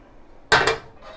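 A soup pot with a little oil is given a quick shake, a single short metallic clatter of pot against burner, close and loud, then fading into quiet.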